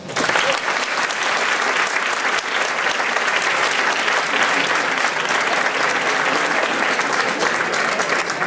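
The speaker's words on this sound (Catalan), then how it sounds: "un fort aplaudiment per a ells." Loud, dense applause from a large audience at a provincial dance gathering, a continuous roar of clapping held steady throughout.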